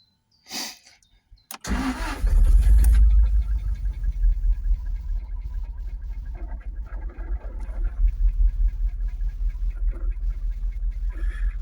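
A Jaguar XKR with new coil packs and spark plugs cranks briefly, fires and settles into a loud, steady idle, some throttle body cleaner still burning off; the engine note wavers slightly as it runs close by.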